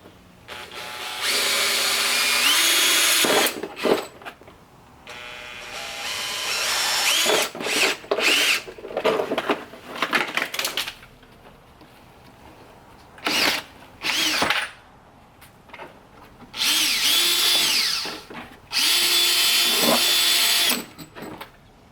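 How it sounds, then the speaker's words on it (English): A power drill bores marked holes in the front door panel of a Nissan Xterra or Frontier, loud up close, its whirring in repeated bursts of a few seconds each, separated by short quiet gaps. "Next, we're just going to drill our marked holes."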